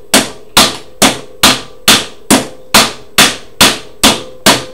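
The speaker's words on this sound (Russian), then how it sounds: "вот это колесо выбиваем молотком" A hammer knocks a wheel off a generator shaft, with eleven sharp, evenly spaced metallic blows about half a second apart, loud and close with no talk.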